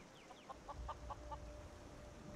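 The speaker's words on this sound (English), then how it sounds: "I really hate this chicken right here" A chicken in the video game Skyrim clucks in a short run of soft, evenly spaced notes, faint and close over a low game ambience, with no talking.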